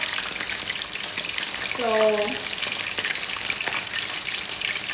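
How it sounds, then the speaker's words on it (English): Food fries in a Teflon pot, giving a steady close sizzle throughout, while a person speaks briefly and a short tonal clink sounds partway through. "we're frying"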